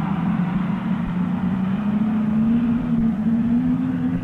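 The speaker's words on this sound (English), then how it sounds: "Cars once more move away to take up their positions for the complete rerun of event number 18" Speedcars at the Sydney Showground in 1965 pull away to take up race positions, a sustained engine drone with a slowly rising pitch, fairly loud and continuous for several seconds.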